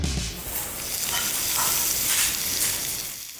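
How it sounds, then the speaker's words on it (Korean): Meat sizzling on a rooftop grill, a steady, loud, close hiss of fat crackling that fills the whole moment with no talk. "고기 구워줄게."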